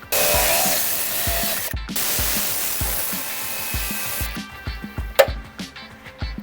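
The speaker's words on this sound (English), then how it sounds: "we've taken out all the rust from this inner archway and ground it down" An angle grinder hisses loudly as it strips rust from the inner rear wheel arch of a cheap Mazda MX-5, with a steady rushing whine, a brief cutoff, then quieter scraping and knocks as the grinding winds down.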